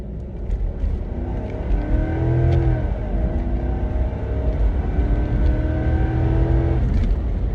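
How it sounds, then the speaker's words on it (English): Car driving fast, with a loud close engine note rising and shifting as it accelerates through gears, steady road rumble underneath and no talking. "it was time to violate some traffic laws and drive to the next location"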